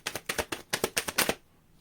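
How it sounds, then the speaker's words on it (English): A deck of playing cards is riffled and snapped in a quick run of about ten crisp, close clicks in steady rhythm, then it stops, leaving near silence. "last shuffle"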